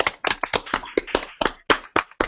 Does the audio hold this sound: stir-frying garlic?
no